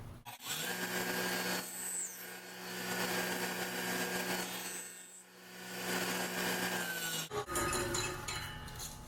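Dado blade on a table saw cutting a wooden tenon on a board end, a loud sustained whining cut with steady hum, dipping briefly between passes and followed by a brief clatter near the end.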